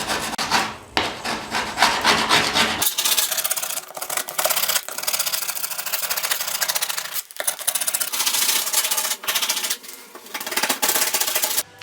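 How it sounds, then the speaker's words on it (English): An old file ground to a sharpened point scrapes linoleum off a floor in repeated rough, rasping strokes, loud and close, with a few short pauses between runs and no talking. "The end has been ground down and sharpened to a point that I can use to scrape this stuff off the floor like this."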